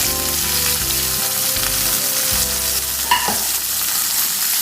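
Curry leaves and onion sauté in a hot pan with oil for a fish molly, giving a continuous, close sizzle with a low steady hum beneath and no talking.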